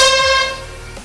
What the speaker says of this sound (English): always playing with the air horn